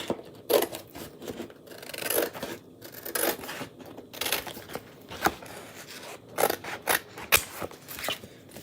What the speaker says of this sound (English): We're just going to cut it on those cut lines.